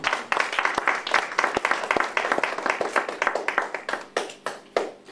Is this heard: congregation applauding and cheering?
yes